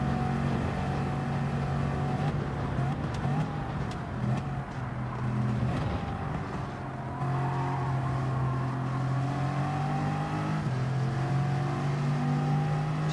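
Porsche race car in a racing video game, its engine revving and droning steadily with pitch rising and falling through gear changes, loud and continuous for the whole stretch.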